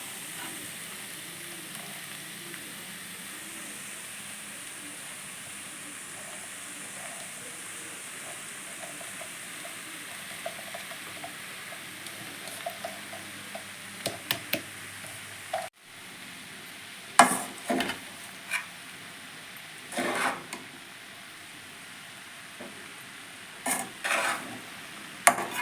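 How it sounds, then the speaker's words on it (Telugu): Boiled rice being stirred with long beans (cowpea) and ginger in a pan: a steady low sizzle with scattered scraping and clinking of a spoon against the pan, growing busier in the second half. "దీన్ని ఒకసారి మిక్స్ చేద్దాం. ఇప్పుడు బాయిల్ రైస్ వేద్దాం."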